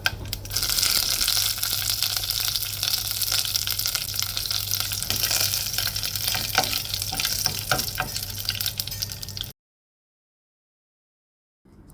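Mustard seeds, dried chillies and curry leaves sizzle loudly in hot coconut oil, a steady crackling fry with scattered pops that continues for several seconds and then stops abruptly into silence.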